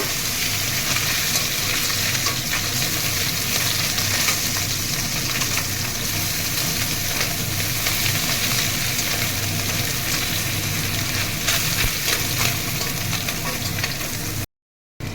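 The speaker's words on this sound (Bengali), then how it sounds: "মাছ ভাজা হয়ে গেছে" Loud, unbroken sizzling of small puti fish frying in hot oil in a kadai, close up, cutting to silence just before the end.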